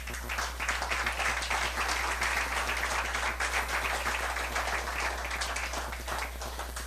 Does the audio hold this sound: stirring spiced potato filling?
no